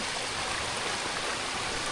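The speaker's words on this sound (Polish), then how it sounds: "Jest jakiś strumyk." Water rushes and babbles steadily, a constant close hiss of a small flowing stream with no voices.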